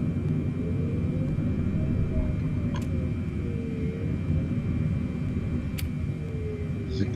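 Boeing 747 engines in Flight Simulator 2020 hum as a steady, quiet low drone throughout, with a couple of faint ticks and no talking.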